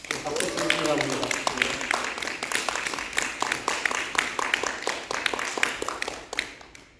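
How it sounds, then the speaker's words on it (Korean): A church congregation at a Sunday service in a Korean church applauds a newly appointed deacon, scattered hand clapping building into a steady patter that thins toward the end, with a voice briefly audible at the start. "박수 주시기 바랍니다."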